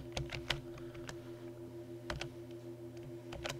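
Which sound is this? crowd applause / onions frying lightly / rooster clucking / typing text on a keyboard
typing text on a keyboard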